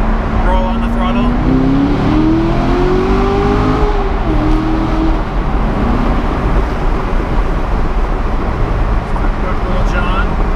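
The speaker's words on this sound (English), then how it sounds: "Let's do a second gear, kind of pull on here. Second gear at 35 miles an hour. Roll on the throttle." A Corvette pulls in second gear from about 35 mph as the throttle rolls on, its engine note climbing steadily under loud, constant road and wind roar heard from inside the car.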